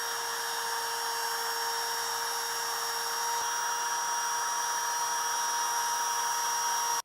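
A router with a round bit cutting a groove in a wooden saw sheath, one loud, steady high whine running continuously and close, then stopping abruptly.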